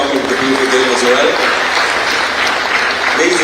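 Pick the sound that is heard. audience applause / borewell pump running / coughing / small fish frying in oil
audience applause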